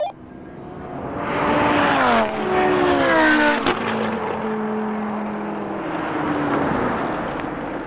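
An Audi RS3, McLaren, Audi R8 and Lamborghini race past in a drag race, loud engines roaring and rising through gear changes, then a long washing roar as the cars pass by and fade.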